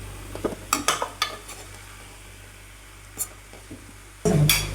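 Chicken and onions in a pan get stirred with a few scraping clinks of a utensil against metal over a faint sizzle, then a louder burst of frying noise near the end.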